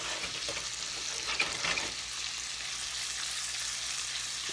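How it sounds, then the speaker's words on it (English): Butter sizzles and fries in a pan while being stirred, a steady close hiss with light scraping, no talking. "I'm going to stir that butter around just a little bit"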